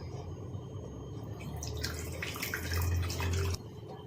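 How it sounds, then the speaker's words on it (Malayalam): Tamarind water poured from a vessel into a pot of coconut-based sambar, a trickling, splashing pour that grows louder midway then stops abruptly, heard close with no speech. "നമുക്ക് ആ പുളിവെള്ളം കൂടി ഇതിനകത്തേക്ക് ഒഴിച്ചു കൊടുക്കുക"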